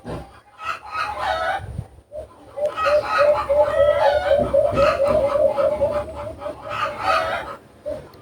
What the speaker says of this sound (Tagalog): So while record ko karon guys, sabaan pud kaayo og mga manok.